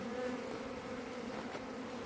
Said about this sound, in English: I can feel their wings vibrating.